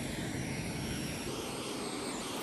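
Airplane engine inside a skydiving simulator game drones steadily, a constant broadband roar with a faint high whine, heard alone for a couple of seconds.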